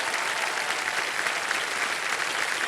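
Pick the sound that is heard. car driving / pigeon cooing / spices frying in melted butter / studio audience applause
studio audience applause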